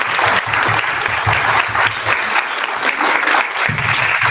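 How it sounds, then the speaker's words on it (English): Audience at a DBE Conference 2024 panel with transportation agency leaders applauds loudly and steadily, a dense wash of clapping that holds for several seconds with no talk over it. "first of all, we're going to give Christy a round of applause"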